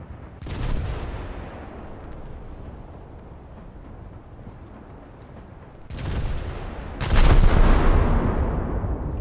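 Secondary guns of the French light cruiser Duguay-Trouin fire in a naval video game: a sharp boom early, then two heavier blasts near the end, each trailing off into a low rumble.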